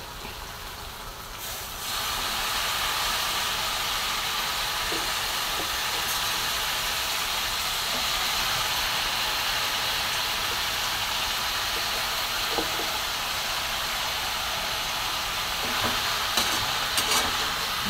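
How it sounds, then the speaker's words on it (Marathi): Fresh fenugreek leaves go into a hot pan with soaked moong dal and salt. A steady, even frying hiss carries throughout, broken by occasional light scrapes from the spatula. "आणि बघा आता मी मेथीची भाजी टाकून"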